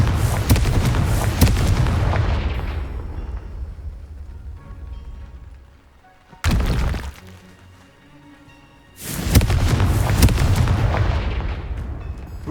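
Confringo blasting spells explode in Hogwarts Legacy, heavy booming blasts with long rumbling decay, one sustained burst, a sharp hit near the middle, and another loud volley near the end, with no talk.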